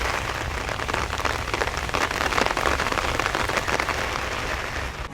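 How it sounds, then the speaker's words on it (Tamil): Heavy rain falling steadily for over an hour during a morning downpour in the Chennai area, a dense, loud, continuous patter of drops hitting surfaces with no voices. "கடந்த 1 மணி நேரத்துக்கு மேலாக கனமழை பெய்து வருகிறது"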